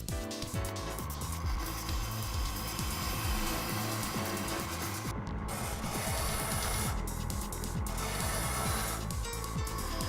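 A diamond dresser trues the sharpening stone on a SCANGRIND wet stone grinder, giving a continuous loud, dense grinding hiss with steady rumble and slight wavering throughout.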